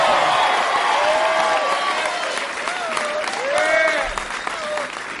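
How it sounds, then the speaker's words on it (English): Crowd applause at a Democratic Senate nomination acceptance event in Florida, loud sustained clapping with cheering voices mixed in throughout. "Give Leslie a round of applause."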